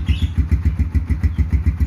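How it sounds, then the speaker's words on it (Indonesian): A Yamaha Scorpio Z or Mega Pro Primus motorcycle engine runs with a deep, rapid pulsing thump, loud and close, its steady rhythmic beat rising slightly as the throttle is blipped. "Kita gas dikit aja langsung galak banget keluarnya, dut kayak gini."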